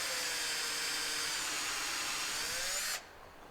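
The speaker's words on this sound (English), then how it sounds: "So here we're going to drill my pilot hole and my countersink." A power drill bores a pilot hole and countersink into a wooden block, a steady high whine that runs continuously and then cuts off abruptly near the end, leaving quiet room tone.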